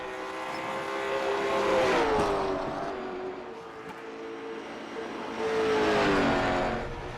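A Chevrolet Camaro race car on a qualifying lap at a derby race, its engine droning steadily as it passes, swelling twice with revving and faint tire squeal, with no talk over it.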